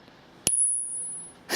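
Two wrenches from a Harbor Freight 301-piece mechanics tool set are clinked together twice, each strike a sharp metallic ping that rings on like a small bell and fades before the next hit.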